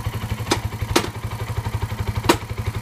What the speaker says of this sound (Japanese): いや、エンジンがかかった。 もうしばらく止めたくないな。